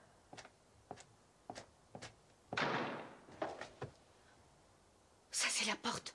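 A door closes somewhere in a house: a run of soft knocks and thuds, one longer, louder rushing thump, then a cluster of heavier bangs near the end, with no voices.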